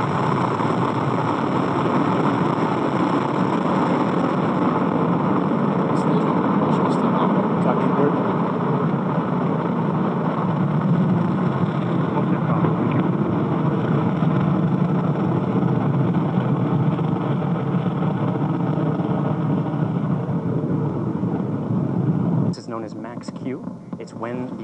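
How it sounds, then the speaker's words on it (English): A SpaceX Falcon 9 rocket lifting off makes a broad, steady roar. The rumble holds loud and unbroken for over twenty seconds and then drops away near the end. "We have liftoff of Falcon 9."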